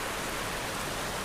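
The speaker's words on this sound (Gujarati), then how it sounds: "વરસાદ" Steady rain falling, a dense continuous hiss of drops with no breaks, even and fairly loud throughout.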